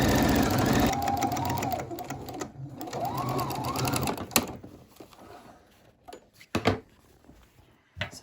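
A sewing machine stitches a fabric face mask, whirring steadily up close for a few seconds forward and back, then stopping, followed by a few scattered clicks and handling knocks.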